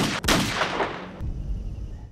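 A loud gunshot cracks close in a film scene, followed by a brief echo and a second sharp report about a second later, with no speech.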